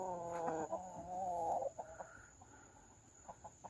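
Chickens cluck and squawk nearby around their fresh water bowls, a run of warbling, rising calls followed by a few short clucks over a steady background hum.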